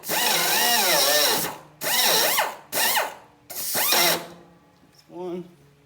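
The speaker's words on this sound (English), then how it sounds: "now I have another smaller die grinder that we can just get a little bit of scuff on the inside" A small die grinder scuffing the inside of a John Deere lawn tractor steering part, whining loudly in four short bursts whose pitch swoops as the load changes, then a softer buzz at the end.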